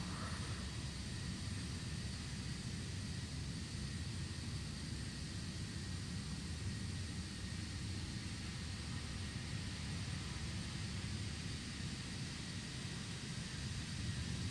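An Antonov An-225 in Microsoft Flight Simulator gives off a constant, low engine drone with a steady broadband roar, unchanging and moderately loud for the whole stretch, with no voices.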